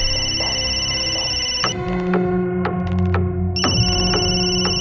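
A telephone rings with a bright, steady electronic tone over a dense background of music, and the ringing cuts in and out between pauses.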